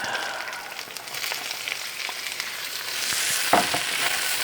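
Vegetables for chop suey stir frying in a hot pan, a steady sizzle close up with bursts of louder crackling and occasional scraping as they are stirred, no talking.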